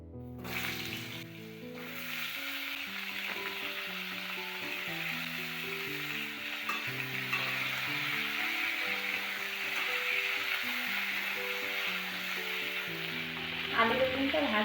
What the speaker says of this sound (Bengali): আলু বেগুনটা ভাজা হয়ে গেছে,